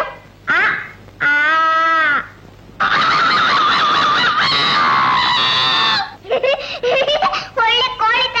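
A person in a comedy scene imitates a chicken crowing, with several loud, drawn-out squawking calls in quick bursts and short pauses between them.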